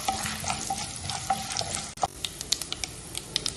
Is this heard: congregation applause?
no